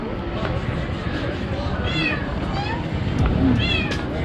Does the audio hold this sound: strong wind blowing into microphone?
no